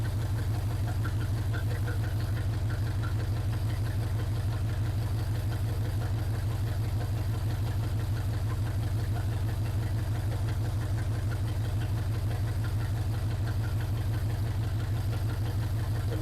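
A 1980 Chevrolet C/10 Square Body Cheyenne truck engine idles evenly after its first start, a steady low rumble with a faint ticking knock running throughout at constant level.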